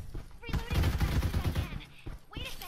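Loud, rapid gunfire in the Farlight 84 shooter game rattles in dense bursts for about two seconds, then resumes after a short break, with a player's voice mixed in.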